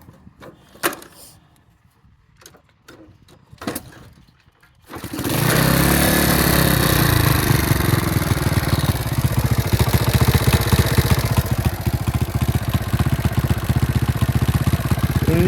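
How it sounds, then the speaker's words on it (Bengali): A used motorcycle's engine starts after a few soft knocks and handling sounds, then settles into a loud, steady, close-up idle that runs unbroken with no talking over it. "আপনাদেরকে গাড়িটার ইঞ্জিন সাউন্ডটা এখন শুনিয়ে দিই।"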